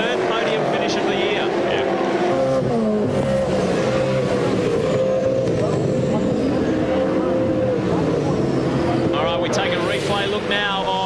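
V8 Supercars racing at Queensland Raceway in 1999, heard from the start with engines roaring loud and continuous, gear changes rising and falling, while commentators talk over the noise throughout.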